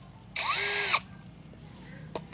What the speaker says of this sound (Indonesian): Nah, sekarang kita cobain mode hammernya ya